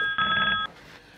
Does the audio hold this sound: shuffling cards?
no